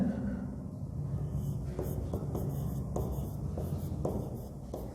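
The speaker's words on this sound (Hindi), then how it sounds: "इस पर लिखते हैं" Pen scratching steadily across paper while a math problem from a Bihar Board class 12 exam is worked out by hand, a close, continuous writing sound with faint strokes and no talking.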